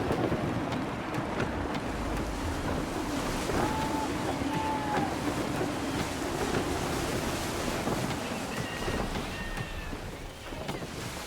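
Wind and waves at sea surround a sailing ship in Assassin's Creed III Remastered, a steady roar of surf and gusting wind filling the whole stretch, with a few faint tonal calls drifting over it.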